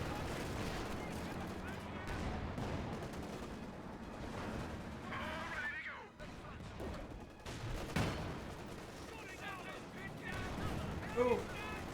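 Artillery and gunfire from a Company of Heroes 2 match with a command tank and Panzer IV in play: repeated booming shots and bursts of fire scattered throughout, mixed under busy game effects and voices.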